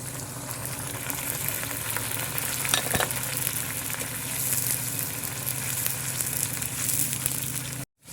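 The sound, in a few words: chopped onions frying with bay leaf and garam masala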